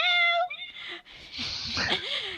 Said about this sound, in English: And the cat goes meow.